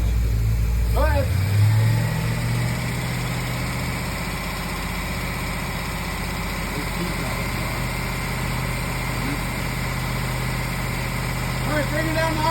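A 454 Crusader marine engine runs steadily throughout, a loud low rumble with vibration and a brief rev near the start, while people talk over it.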